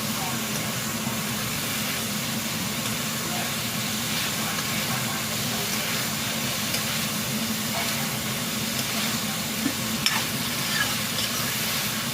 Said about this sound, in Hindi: अब मैं ऐड करूँगी चिकन। Mix it all.